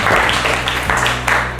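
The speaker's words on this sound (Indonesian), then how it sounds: "tepuk tangan untuk divisi penerbangan" A short burst of classroom applause for a student aviation group, several hands clapping in a quick, uneven patter close by, with faint voices underneath.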